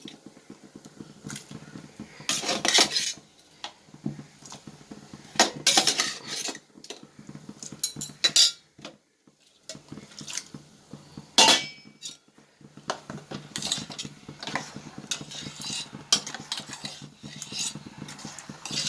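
Stingray fish theeyal is stirred in a pan with repeated metal scrapes and clinks of a spoon against the pan, coming in uneven bursts with quiet gaps between them.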